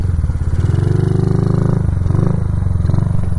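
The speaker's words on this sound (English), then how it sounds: "trying to wheelie with my feet on the back pegs" A Honda CRF50 pit bike with an upgraded sprocket and CDI buzzes loud and close as the rider attempts a wheelie, its small engine putting steadily before the revs climb and dip briefly near the end.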